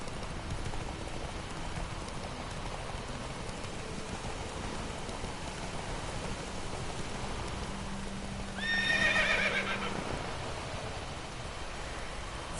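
Roach, Geralt's horse in The Witcher 3, gallops through steady rain with faint clip-clop hooves and a loud whinny near the end, all low under the rainfall.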